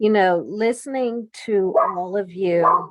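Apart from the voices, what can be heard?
dog barking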